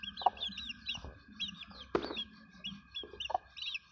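Aseel chicks and chickens clucking and chirping close by, with repeated short clucks and high peeping calls throughout, one louder squawk in the middle, no talking.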